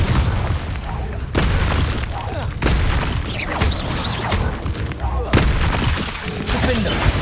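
Confringo fire-spell explosions in the Hogwarts Legacy video game on Xbox Series X, a run of loud booming blasts and crackling bursts in dense, continuous combat noise.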